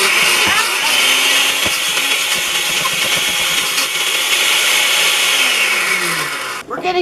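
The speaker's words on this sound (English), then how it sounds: "If you rock the blender, it seems to work better." A blender grinds peanut butter with hot chocolate mix into a homemade chocolate spread, a loud, steady motor roar running almost the entire time before cutting off near the end.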